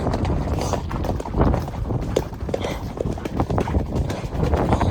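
Horse cantering on a hack, with hooves drumming in a steady rolling three-beat rhythm close to the microphone, under constant wind noise and light tack and rider movement.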